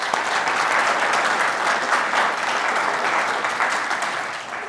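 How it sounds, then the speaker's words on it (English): Lecture audience at a university expert talk breaks into sustained, dense applause, loud and steady throughout before tapering slightly at the end, with no talking over it. "I think she deserves another round of applause."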